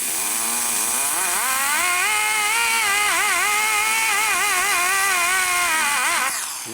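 A rotary tool fitted with a coarse bit grinds into a Harley-Davidson Evo engine case, a loud continuous high whine that wavers in pitch as the load changes, then tapers off at the end.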